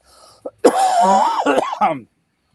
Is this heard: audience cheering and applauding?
no